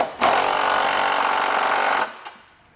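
An impact or power wrench with an 11/16 socket snugging down the bolts of a Curt trailer hitch receiver on a 2021 Honda CR-V, one loud, close, steady buzzing rattle lasting about two seconds before cutting off.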